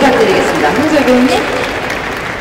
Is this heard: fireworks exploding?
no